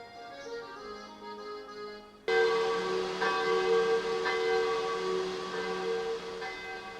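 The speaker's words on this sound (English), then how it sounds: "the daily chime of church bells gives way to the rattle of cattle bells" Church bells chime in an Alpine village, a quieter ringing that swells abruptly into a loud, sustained peal of layered tones filling the rest of the passage, with no voices.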